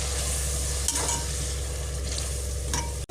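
Ingredients for prawn biryani sautéing in a pan, a steady close sizzle with a low hum beneath and a couple of faint stirring scrapes.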